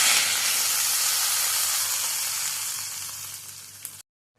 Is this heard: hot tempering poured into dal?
yes